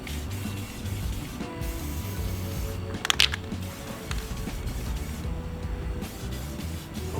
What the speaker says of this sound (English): It's time for the first coat of paint. Ford Tractor Blue.